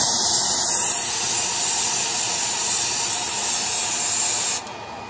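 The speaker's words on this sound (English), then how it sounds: "stick it in the end, and hit this side with compressed air." Compressed air blasts into the end of an aircraft wing spar to blow out metal shavings, a loud, steady hiss close by that runs for several seconds before cutting off abruptly near the end.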